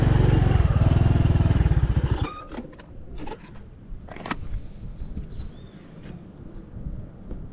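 A motorcycle idles up close on a stop during a ride through the streets of Baía Formosa, Rio Grande do Norte, a loud, rapid, steady pulsing for about two seconds before the engine cuts out, leaving wind and scattered small knocks.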